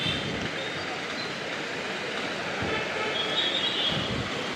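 Train at a railway platform in the Palakkad division, with a steady broad rumble and hiss of rolling railcars close by throughout, no clear voices.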